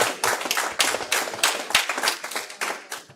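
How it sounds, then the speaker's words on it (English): Audience members at a city council meeting clap in a short burst of steady, moderately close applause that fades out after a few seconds, with no talking over it. "You guys were clapping for me already?"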